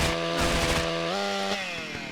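Chainsaw in the video game GTA United, a loud, harsh motor drone held steady and then dipping slightly in pitch as it revs down, heard alone.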